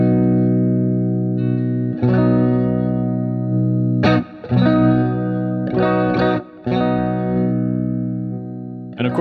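Electric guitar with a neck and bridge pickup blend and a phase effect, sustained chords ringing with swirling tonal shifts, several strums at steady intervals, close and loud with no talking.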